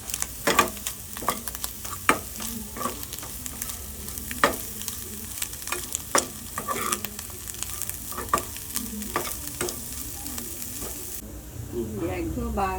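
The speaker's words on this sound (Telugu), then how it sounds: "ఇప్పుడు ఎగ్స్ బాగా వేగినాయండి." Eggs frying and being stirred in a pan with ginger garlic paste and salt, with steady sizzling and repeated sharp scrapes and clacks of a utensil against the pan, close and alone without talk.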